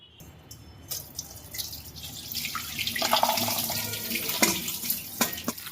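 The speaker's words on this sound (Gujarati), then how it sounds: "હવે આપણે આનું આ પાણી કાઢી નાખવાનું" Water splashes and drains away from soaked val beans, starting quietly and building into a steady pour with gurgles and sharp drips near the end.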